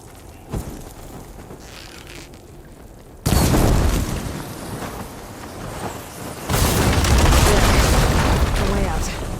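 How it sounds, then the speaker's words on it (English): Blaze barrels in Horizon Forbidden West detonate after being hit with fire ammo, setting off two heavy, booming blasts a few seconds apart, each followed by a loud, sustained roaring rumble. "Hitting those blaze barrels with fire ammo should do the trick."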